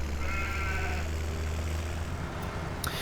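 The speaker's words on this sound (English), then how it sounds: "Happy sheep are good sheep." Sheep bleat in a survival video game, a drawn-out wavering call over a low steady hum, followed by a brief higher sound near the end.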